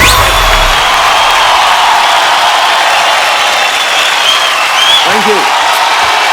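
A studio audience on an Indian comedy talk show applauds and cheers to welcome a Bollywood guest, with a loud, continuous wash of clapping and a faint raised voice late on.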